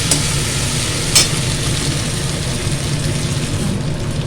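Boiled banana sizzles steadily in a hot frying pan for a Bengali banana-potato-poppy seed dish, with a loud continuous hiss, a brief clatter as it is stirred, and no talk.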